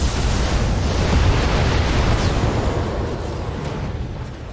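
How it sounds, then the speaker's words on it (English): A mech in the video game Battletech fires all its weapons at once in urban combat, producing a loud, sustained barrage of blasts and booms that blur into a dense roar and ease off only slightly toward the end. "Firing all weapons"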